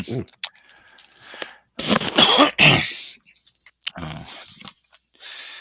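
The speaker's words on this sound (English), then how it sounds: "Coughing all day." Someone coughs several times in harsh, raspy bursts, with throat clearing between and quiet gaps.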